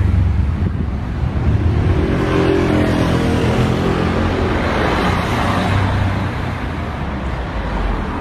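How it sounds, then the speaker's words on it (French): Ferrari SF90 Stradale supercar heard outdoors, a loud steady engine roar that swells and holds for several seconds amid surrounding street noise, fairly close. "Ah bah voilà, j'attendais le start-up."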